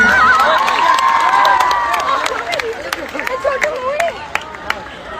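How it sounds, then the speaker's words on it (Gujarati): A live audience at a Gujarati film celebration event claps and cheers in a loose, sustained burst that gradually thins out, with a host's voice carrying over the crowd noise. "રીવા માટે તાળીઓ થઈ જાય બહુ જ બધી"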